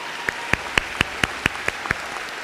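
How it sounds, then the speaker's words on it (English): A small group of graduates at a graduation ceremony claps in sparse, separate claps, about nine distinct sharp hits spread over a couple of seconds, fairly close and clear with no talk over them. "So I think we deserve a round of applause."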